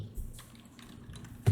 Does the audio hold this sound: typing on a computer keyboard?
yes